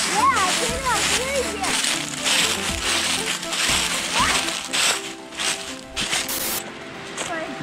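A pine cone thrown into a river lands with a watery splash amid fallen autumn leaves, heard between children's and adults' chatter along the riverbank.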